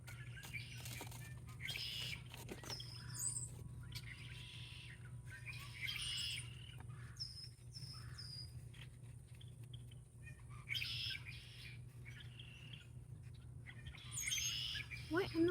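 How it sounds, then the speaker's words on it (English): A bird on Morrow Hill giving short, cat-like mewing calls, several faint outdoor bursts spaced apart over a low steady background hum, with a person talking softly in between. "It's like making this little meow sound."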